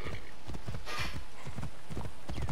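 Horse hooves clip-clop in a steady trotting rhythm in the video game Assassin's Creed Origins, close and continuous, over a constant background hiss.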